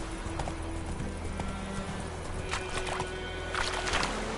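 Roach the horse gallops in a video game, hooves clip-clopping in a steady rhythm over a low rumbling background, joined by brighter rustling and stepping bursts toward the end.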